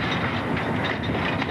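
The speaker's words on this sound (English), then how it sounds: "Imagine a freight train being assembled one boxcar at a time." Freight train rolling along the rails, a steady, loud rumble with dense rattling, close and continuous with no voices.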